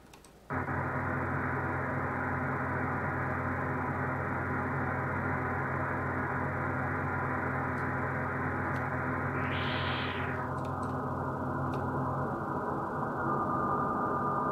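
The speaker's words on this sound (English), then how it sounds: "I can see interference has definitely come up." Radio receiver fed by an active Mini Whip antenna with a wire extension, giving a loud continuous hiss and buzzing interference noise with steady tones, one brief rising sweep partway through.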